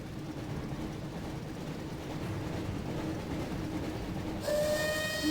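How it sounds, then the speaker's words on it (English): A train passing through a tunnel in the Harry Potter and the Chamber of Secrets video game, heard as a steady low rumble that swells near the end with a bright metallic screech and tonal whine. "Looks like we found the train, Ron."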